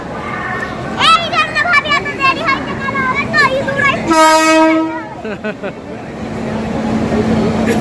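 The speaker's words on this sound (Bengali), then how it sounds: "ছটকি ট্রেন চলে এসেছে।" Puri Shatabdi Express pulling into a station: a loud, sustained train horn blast rings out for about a second amid the rumble of the arriving train, with people talking before and after on the platform.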